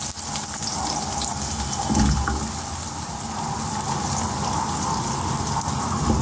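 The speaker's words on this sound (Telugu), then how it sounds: "ఆయిల్ వేడెక్కిపోయింది కదా, ఇప్పుడు కోసి పెట్టుకుని ఉల్లిపాయ ముక్కలు వేస్తున్నాను" Chopped onions go into hot oil and sizzle loudly, a dense, continuous crackling hiss that stays close and even throughout, with no voices.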